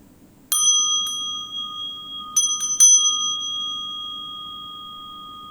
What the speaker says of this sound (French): écoutez la petite cloche qui va sonner